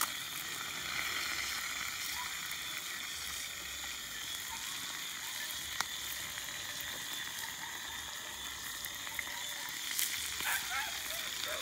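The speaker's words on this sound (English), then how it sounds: "I'm doing some fried fish" Fish fried at an evening outdoor cookout on a stove, a steady broadband sizzle of hot oil running continuously with faint crackles and a few sharper pops, moderately close and without any talk.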